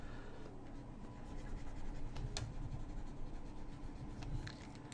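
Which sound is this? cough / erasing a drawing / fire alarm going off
erasing a drawing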